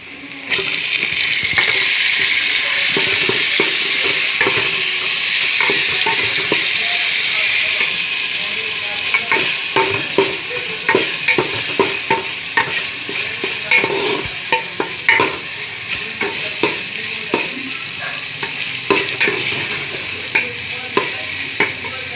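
Tomatoes sizzle loudly in a hot pan while a spoon scrapes and stirs with steady clacks, and a voice speaks faintly underneath.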